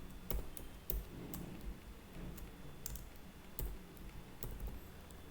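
Java code being typed on a computer keyboard: quiet, irregular clusters of sharp key clicks with short pauses, close and alone with no talk.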